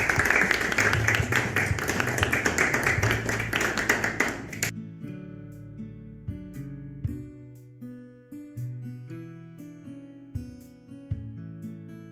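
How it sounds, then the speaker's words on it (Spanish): Model UN delegates applaud after a resolution passes on a vote, with dense clapping for about four and a half seconds that then stops abruptly, followed by soft tonal music. "Por favor, un aplauso."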